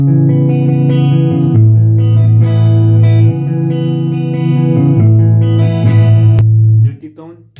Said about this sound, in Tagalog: So this is the clean tone para labas yung tunog ng cabinet or tube amp